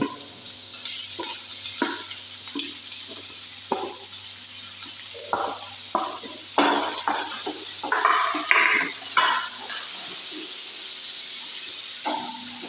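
Onions fry in oil in a pan for a Malabar fish pathiri, giving a steady soft hiss with intermittent louder sizzling bursts and clinks of stirring, growing busier toward the middle before settling back to a quiet sizzle.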